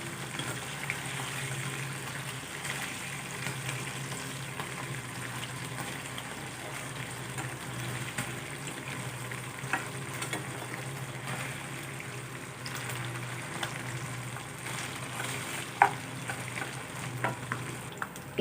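Small anchovies (nethili) fry in oil with a steady, moderate sizzle, and occasional light scrapes and taps come from a spatula turning them in the pan.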